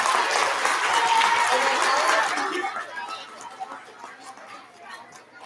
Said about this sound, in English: round of applause for our first grade award recipient